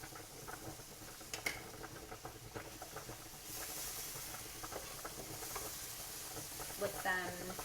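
Tofu sizzles and pops in a hot pan with teriyaki sauce drizzled on, a steady crackling fry with stirring and scraping close by.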